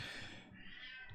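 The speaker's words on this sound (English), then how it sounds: "I think the cat has some interesting things to say about whoever wrote this book." A house cat meows in a faint, drawn-out call lasting about a second, heard alone and close by.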